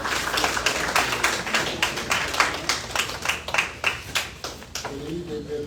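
An audience claps at a town hall meeting, the claps coming thick and rhythmic at first, then thinning and fading out toward the end.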